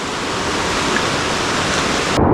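A river running full and fast after heavy overnight rain, a steady broad rushing roar of water, close and continuous, with no voices.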